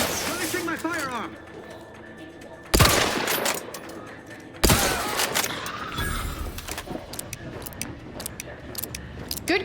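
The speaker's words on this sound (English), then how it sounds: "Now we're getting the headshots. Releasing my firearm." Gunfire in The Outer Worlds 2 game: sharp loud shots burst out, with two strong reports standing out among a busy mix of game sounds and talk.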